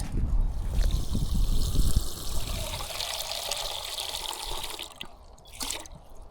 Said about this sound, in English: I'm gonna fill up my camelback and get some water for food.